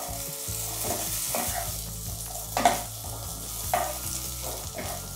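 Gatte, gram-flour dumplings, fry in a pan as a spoon stirs them now and then, giving a steady sizzle with a few louder scraping strokes against the pan.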